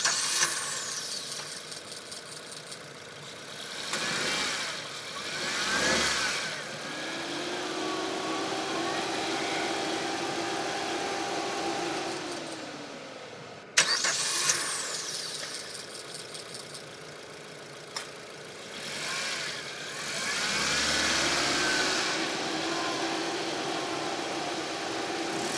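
A 2025 Maruti Ertiga engine cranks and settles into a smooth, quiet idle, then shuts off and is started again, each start a brief rising whir before the low steady hum.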